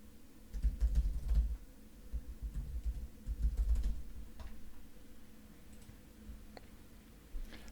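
Close, quiet tapping on a computer keyboard comes in quick irregular bursts with short pauses, and a few isolated key clicks follow near the end.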